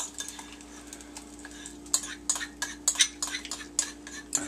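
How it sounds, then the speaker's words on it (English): Sauce spooned over chicken wings in a bowl: a run of close, sharp metal spoon clinks and scrapes against the bowl, irregular and growing busier toward the end, with no talking. "We're going to spoon the rest over the top."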